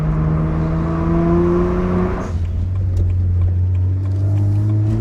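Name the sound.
BMW 1M N54 engine driving and accelerating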